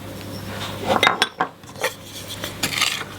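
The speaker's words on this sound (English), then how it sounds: "Stir those just to combine that mixture together" A spoon stirs ground almonds, spices and lemon and orange rind in a bowl for a Christmas cake batter, producing a few irregular scrapes and clinks against the bowl, close and moderately loud.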